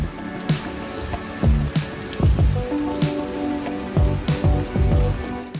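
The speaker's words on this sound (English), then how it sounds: "Hail, pieces of ice, look at it. Hail falling on the ground." Hailstones patter and tick on the ground in Brussels in a dense, steady shower, with sharper individual impacts popping out close by.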